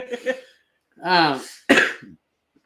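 A person gives a single harsh cough, close and loud, after a few short throaty sounds, with quiet gaps in between.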